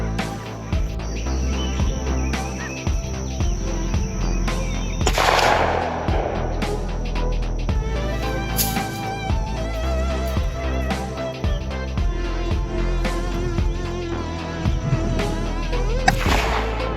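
A fire-damaged gun is fired at an outdoor range. Three loud, sharp shots ring out several seconds apart, with smaller clicks between them and insects chirping steadily in the background.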